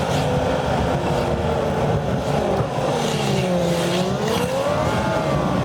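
An old Lexus SC coupe passes at speed, its engine note rising and falling as it approaches and recedes, loud and steady under broad road noise with no talking.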